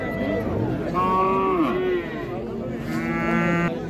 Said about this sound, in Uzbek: Bu ho'kizimiz